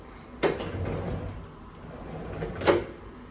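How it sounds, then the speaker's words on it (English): A sliding bathroom door in a King Deluxe City View hotel room at the Hilton Singapore Orchard rolls along its track, with a sharp knock at the start and another thud near the end, heard close by with no talk. "with a sliding door."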